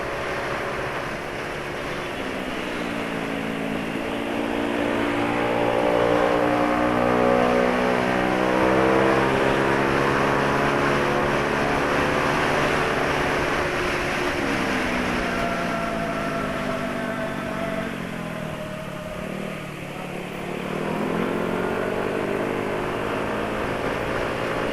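A loud racing exhaust drones and revs continuously, its pitch rising and falling in long sweeps as the engine accelerates and eases off, with no voices.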